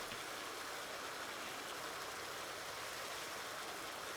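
Water loading for chickens in Farming Simulator 19 pours as a steady, dense rush like a stream or light waterfall, continuous and fairly loud, with no talking.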